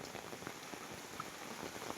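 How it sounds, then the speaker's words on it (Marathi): Water pours down steadily off a tin roof in a dense, continuous splashing rush during a flood, with no voices. "हे आपलं पाठीमाग पाणी पडतंय पत्र्याचं"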